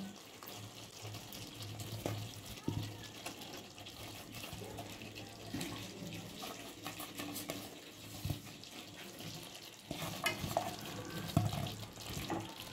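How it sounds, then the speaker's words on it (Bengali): Fried potatoes being stirred and mixed into a spice paste in a pan for a Bengali white aloo dum, with steady scraping, stirring and soft sizzling close by, no talking. "আর মশলাটার সাথে ভালো করে আলুগুলোকে মিশিয়ে নেব।"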